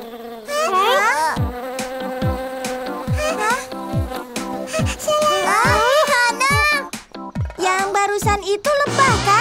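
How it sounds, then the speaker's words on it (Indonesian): Buzzing bee in a children's cartoon about insects, a wavering whine that rises and falls in pitch, mixed with bright music and cartoon sound effects, loud and close, with a voice speaking at times. "Itu lebah kan?"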